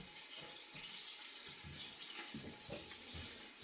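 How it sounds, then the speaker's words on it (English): Tap water runs steadily into a kettle in a home kitchen where onions are cooking in butter, a continuous close hiss and splash with no voices. "I'll put the kettle on so I can use some water to make the sauce."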